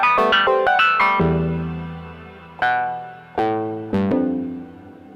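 Digital wavetable synthesizer playing a quick run of bright notes followed by several sustained, plucked chords, each decaying slowly into a spacious reverb tail, with no voices.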